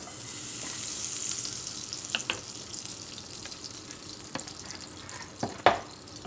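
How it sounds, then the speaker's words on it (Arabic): Two spoonfuls of ghee melt in a pot on a gas stove, giving a soft, steady sizzle with a few sharper crackles and clinks near the end, with no voices. "هنجيب حله نحطها على البوتاجاز، هنزل بيها كده بمعلقتين سمنه"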